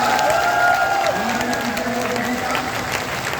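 A large audience at the Bina Refinery event applauds and cheers to welcome Prime Minister Narendra Modi, a dense sustained roar of clapping with a voice amplified over it.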